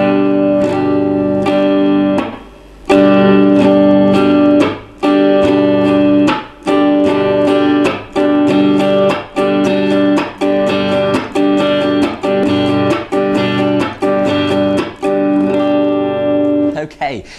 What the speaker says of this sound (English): So when we put that into the strumming pattern,